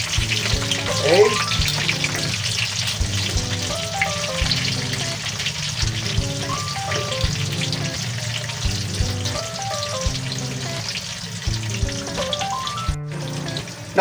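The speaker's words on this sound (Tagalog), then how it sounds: "Ngayon naman po ay ipiprito naman natin yung ating talong." Eggplant fries steadily in hot oil with a continuous sizzle and crackle, alongside intermittent kitchen clatter throughout and a sharp knock near the end.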